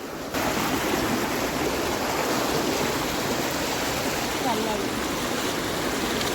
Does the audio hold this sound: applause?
no